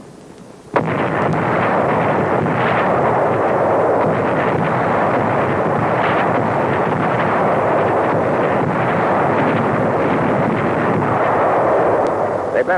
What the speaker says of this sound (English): We locate the Nazi guns and let them have it.